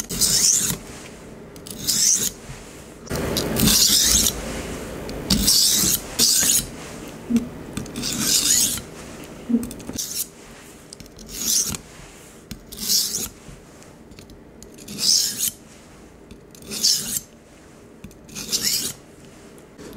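Steel knife blade drawn repeatedly along a sharpening stone, the heel pulled back with the tip held at 20 degrees, giving about a dozen rhythmic close rasping strokes, each a short gritty scrape with brief pauses between.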